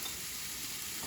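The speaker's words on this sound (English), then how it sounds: "From here, we're just getting everything sauteed a little bit of color." Scallops, onions and garlic sauté in a pan, a soft continuous sizzle that holds steady and faint for about a second with no talk over it.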